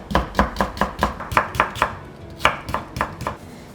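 A knife chops daikon radish on a board into thin half-moon slices about two to three millimetres wide, giving a quick, fairly even run of crisp close taps with a short pause midway.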